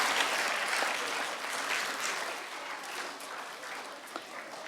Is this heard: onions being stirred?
no